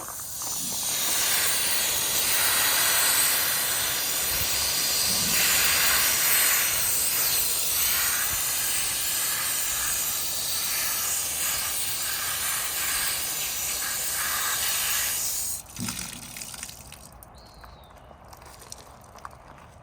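A garden hose sprays water in a steady, loud hiss to rinse cleaner off a surface, running continuously for about fifteen seconds before cutting off, followed by scattered drips and quiet.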